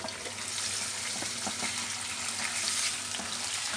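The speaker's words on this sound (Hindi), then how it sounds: "इसको हमने हल्की आंच पे गोश्त को इसके साथ भूनना है" Mutton frying in a pan with whole garam masala over low heat makes a continuous soft sizzle and crackle with light stirring scrapes, fairly faint and steady, with no voices.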